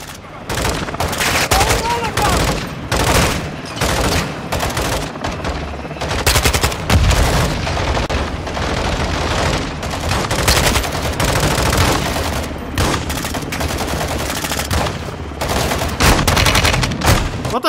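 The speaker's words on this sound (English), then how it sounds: "Everybody's shooting everywhere." Gunfire in a Call of Duty: Modern Warfare 2 mission: loud, continuous bursts of machine-gun and rifle fire with scattered single shots go on without a break, with a voice talking over them now and then.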